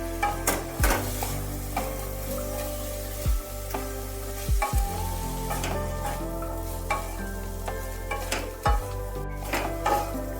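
Boiled chickpeas and potatoes are stirred with ground spices in a wok. A spatula clanks and scrapes against the metal in repeated strokes over a steady, close sizzle.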